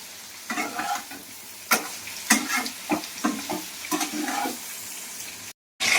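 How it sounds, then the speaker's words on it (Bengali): Prawns frying in a pan for a Bengali home-style prawn kosha, a loud steady sizzle with bursts of stirring and spattering, fairly close, with no talk over it. "আর এখানে চিংড়ি মাছটা ভাজছি।"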